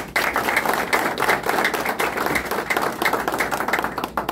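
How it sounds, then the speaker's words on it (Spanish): People at a political campaign event applaud for council candidates, a close, brisk burst of many hands clapping in a dense, slightly uneven rhythm throughout. "Así, un aplauso para ellos."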